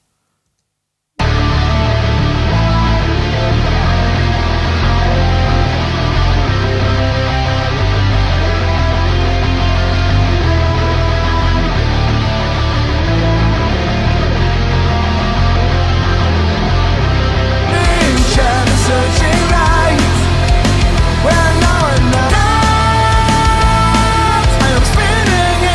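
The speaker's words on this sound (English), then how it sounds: "Let's listen to it with the guitars, so bass and guitars." Distorted bass and guitars play a dense, loud rock-metal wall of sound, starting after a short silence and continuing steadily, with the texture brightening and thickening partway through.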